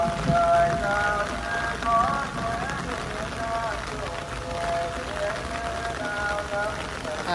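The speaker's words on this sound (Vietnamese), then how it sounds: "Mưa lớn rồi ha." Heavy rain pours steadily at a graveside gathering, a dense continuous hiss under people talking nearby.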